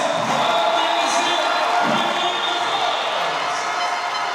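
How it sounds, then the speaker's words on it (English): A women's sevens rugby stadium crowd in Clermont-Ferrand roars and cheers after a try for France, a loud sustained wash of voices with some faint commentary underneath. "And listen to the crowd."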